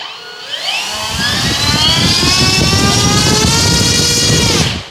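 The electric motor of a Kavan Pilatus PC-6 Porter, a 1.5 m RC model plane, spools up from quiet to a loud, sustained high whine with a steady buzzing drone, then cuts off sharply at the end.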